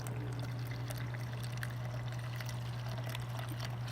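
Store-bought beef stock pours into a container in a steady, quiet stream, with a constant low hum in the background and no talking.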